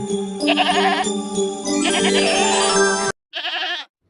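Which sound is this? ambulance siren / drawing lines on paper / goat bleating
goat bleating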